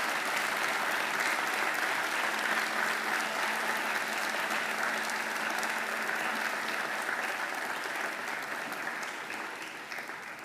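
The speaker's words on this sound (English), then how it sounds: "I invite you to give them a mighty round of applause" Sustained applause from a large crowd at a Macquarie graduation ceremony, steady and loud throughout before slowly tapering toward the end.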